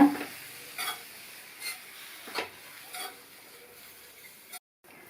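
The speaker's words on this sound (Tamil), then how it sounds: "சேர்த்துட்டு நல்லா ஒரு தடவை இந்த மாதிரி மிக்ஸ் பண்ணி விட்டுருங்க" Coarsely ground spice powder is stirred into cabbage in a pan, producing soft, close scraping strokes in a slow, uneven rhythm with a faint sizzle beneath, no talking.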